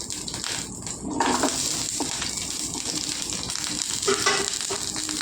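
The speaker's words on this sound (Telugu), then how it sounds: "పచ్చిమిరపకాయలు బాగా వేగాలండి" Thirteen green chillies fry in a generous pool of oil for a ridge gourd and tomato chutney, giving a steady, close sizzle with light stirring scrapes throughout.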